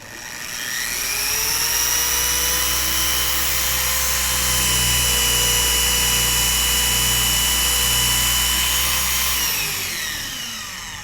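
A Chemical Guys TORQX dual action polisher runs on car paintwork with no pressure at speed setting 6, a steady loud motor whine with a low droning hum that spins up, holds evenly, then winds down.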